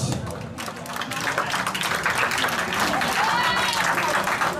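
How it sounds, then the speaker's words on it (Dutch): A crowd at a kickboxing fight event applauds two fighters at the end of the second round, a dense, steady burst of clapping that builds slightly and fills the whole moment, with voices mixed into the noise. "mag ik een groot applaus voor deze twee vechters"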